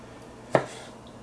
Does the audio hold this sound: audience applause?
no